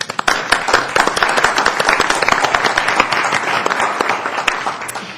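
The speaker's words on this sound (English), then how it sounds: "maybe have a round of applause for all of her hard work" A room full of people at a city council meeting breaks into sustained applause, dense overlapping claps that start abruptly and hold steady at close range throughout.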